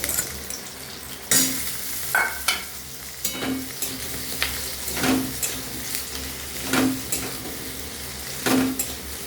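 Large cut pieces of potato go into a frying pan, a persistent sizzle with repeated scraping and knocking stirs against the pan at roughly regular intervals, close and fairly loud.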